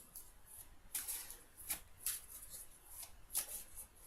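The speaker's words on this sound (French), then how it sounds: "je vais vous tirer 3 cartes avec l'oracle de la triade" Oracle cards from a triad deck being shuffled for a reading, heard as a few brief soft riffling bursts separated by quiet pauses, close and faint with no talking.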